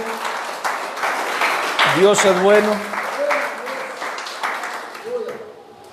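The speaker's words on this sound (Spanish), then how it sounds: "Aplaudámosle al Señor en esta tarde" Congregation in a Spanish-speaking church claps together in a steady burst of applause while a preacher speaks over it, fading toward the end.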